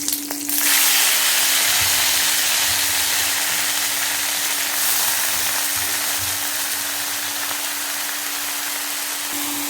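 Pumpkin greens with potato, papaya and green chili frying in hot oil, giving a steady, even sizzle close by that carries on without a break, with a faint low hum underneath.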